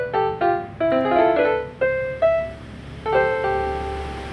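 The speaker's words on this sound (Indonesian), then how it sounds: "pianika ini bila tanpa horn tweeter dia suaranya sangat pelan" An electric pianica (melodica) played without a horn speaker amplifier gives a short run of clear reedy notes, each with a sharp onset and steady decay, fairly quiet and close, with no talking.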